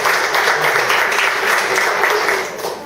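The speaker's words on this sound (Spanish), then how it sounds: "Fuerte aplauso" Audience applause at a conference, a steady wash of clapping from a crowd that holds for a few seconds, then trails off slightly at the end.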